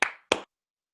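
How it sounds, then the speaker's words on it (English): Two sharp hand claps in quick succession, close and dry, used as a sync slate, followed by silence. "Just do one clap."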